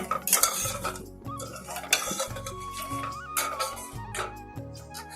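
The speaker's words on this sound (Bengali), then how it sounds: "চিনিটা গলছে অল্প অল্প করে আস্তে আস্তে করে কম আঁচ দিয়েছি" A spoon stirs sugar slowly melting in a pan over low heat while lemon pickle is being made, giving repeated metallic clinks and scrapes against the pan in an uneven rhythm, close and fairly quiet.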